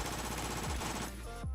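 MP7 submachine gun fire in the game Phantom Forces: a close, fast rattling burst of automatic shots lasting about a second, then a couple of trailing shots before it stops.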